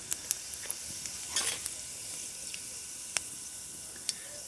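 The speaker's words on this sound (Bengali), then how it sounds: "এবার ফোড়নে দিয়ে দিচ্ছি অল্প একটু গোটা জিরে" Whole cumin seeds tempering in a little hot white oil in a kadai make a steady close sizzle, broken by sharp crackles and pops over several seconds, with no talk.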